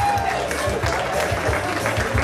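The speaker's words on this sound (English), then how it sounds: "Give everybody a round of applause for coming out tonight and supporting the Streator Walldogs." Applause rings out at a New Year's Eve community party held for the Streator Walldogs, clapping and crowd noise sounding close and full over a low rhythmic music beat, with voices mixed in.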